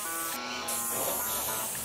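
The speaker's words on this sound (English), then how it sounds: "Now, I'm going to spray all the top, all the way down," A paint spray gun hisses steadily and continuously while spraying trim, a broad, close, even airy rush with no pauses.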